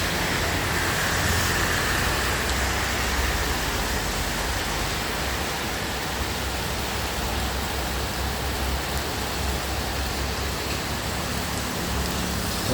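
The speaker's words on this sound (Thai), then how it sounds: "ฝนตกหนักแล้วครับ" Heavy morning rain in Lamphun, Thailand pours in a dense, steady roar close by, unbroken for the whole stretch and heard alone with no voices.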